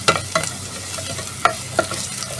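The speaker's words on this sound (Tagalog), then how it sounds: "Gisa muna natin yung bawang natin." Garlic sautés in a hot pan for miki guisado, a soft sizzle underneath with sharp scrapes and clinks of a spatla stirring against the pan, close and fairly loud, no talking.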